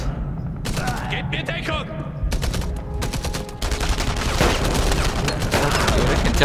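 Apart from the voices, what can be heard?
Gewehr rifle gunfire in video game Enemy Front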